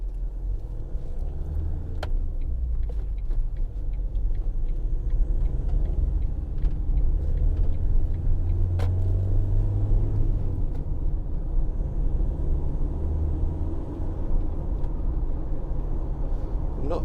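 A 2012 Ford Transit 2.2 TDCi 260 medium-roof van drives along a road, its steady diesel rumble and road noise continuous throughout with a few faint clicks.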